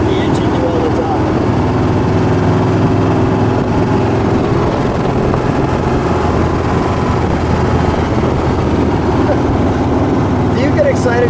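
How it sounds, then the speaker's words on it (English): A 1966 Shelby Cobra 427 runs while driving, its engine a continuous low droning rumble mixed with road and wind noise, steady and close throughout. "I just let the engine do all the talking."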